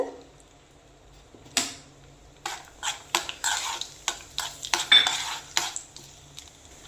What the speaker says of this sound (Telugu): మన జీడిపప్పు కిస్మిస్ కూడా రోస్ట్ అయ్యండి.